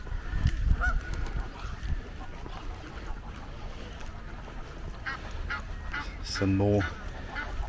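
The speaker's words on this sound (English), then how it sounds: "Canada geese." Canada geese honk in short bursts against outdoor background noise at a lake in London, with a brief spoken phrase early on.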